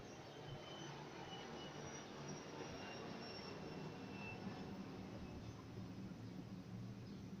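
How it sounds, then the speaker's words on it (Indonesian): An airplane passes overhead during a church service, a steady broad rumbling roar held at even loudness across the whole stretch with no talk over it. "Ada pesawat lewat"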